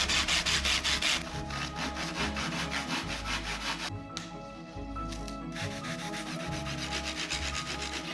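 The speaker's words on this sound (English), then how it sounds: "This needs to be hand sanded down to refine the edge to exactly what it needs to be." Steady, continuous rasping strokes of hand sanding along the edge of a titanium sword blade, loud and close, with a constant scrubbing rhythm and no talking.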